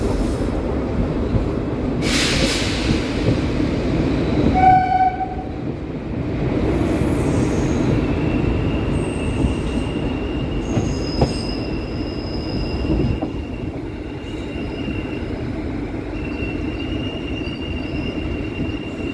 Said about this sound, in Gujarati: આપણી ટ્રેન સ્લો થઈ ગઈ છે વ્યુઅર્સ